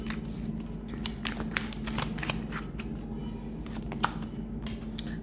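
Tarot cards shuffled and drawn by hand in a continuous run of soft papery riffles and slides with occasional sharper snaps, close and fairly quiet over a steady low background hum.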